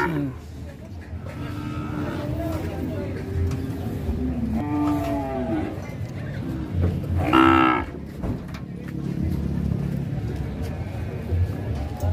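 Cows moo near a truck in a series of close, drawn-out calls, with one especially loud bellow toward the end. Outdoor rumble runs throughout, and people can be heard talking.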